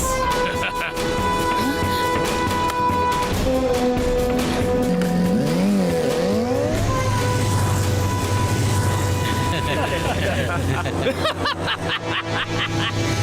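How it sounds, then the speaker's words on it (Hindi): A motorbike engine in a film scene starts and revs, loud and close, rising and falling in pitch with a tire-squeal-like whine, while voices speak over parts of it. "बाइक चालू हो गई।"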